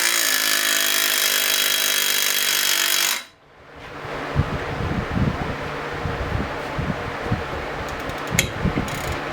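A Snap-on cordless impact wrench runs with a loud, high, continuous whine for about three seconds, then stops abruptly, followed by quieter scattered clunks and handling noises.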